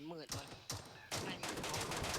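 Rapid bursts of gunfire in PUBG Mobile's Metro mode crack out in several volleys, loud and close, with a short tonal game sound at the start.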